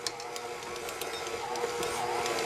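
A bread machine kneads dough with a continuous mechanical whir and faint periodic knocks, steady and close, with no talk.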